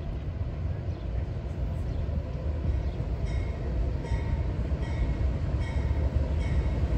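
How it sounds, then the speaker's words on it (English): A Norfolk Southern freight train, a manifest train, rumbles steadily past in Glendale with a continuous low roar of rolling cars and faint wheel squeal, heard alone without talk. "another Norfolk Southern coming through Glendale."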